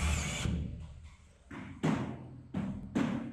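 A power drill drives screws into a gypsum board ceiling where it meets steel framing, heard as several short, loud whirring bursts separated by brief pauses.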